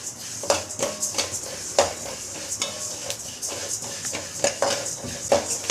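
Fennel seeds dry-roasting in a pan for homemade sambar powder rattle and scrape under repeated stirring strokes, with sharp clinks of a spoon against the metal, close and brisk, with no voices.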